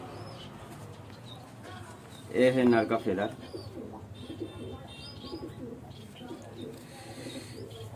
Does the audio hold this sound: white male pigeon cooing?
yes